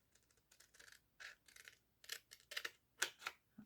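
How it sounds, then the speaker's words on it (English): Paper being cut with scissors for a window coin envelope: a quiet series of short, crisp snips and slicing strokes, close up and alone. "So you want to cut it on the back side."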